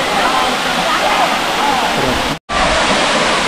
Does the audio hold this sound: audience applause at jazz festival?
no